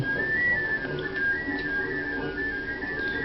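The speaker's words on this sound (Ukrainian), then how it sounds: "тут можна вибрати інструмент, який подобається, і зробити так, щоб його можна було послухати, наприклад, флейту" Flute melody at an interactive music museum exhibit, a thin, sustained tune with gently shifting notes played steadily over faint room noise.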